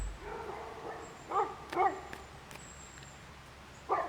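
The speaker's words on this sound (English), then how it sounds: "My dog has just found a car to drive after, ride after, run after." A dog barks outdoors a few times, in short separate bursts at moderate distance over a low steady background hum.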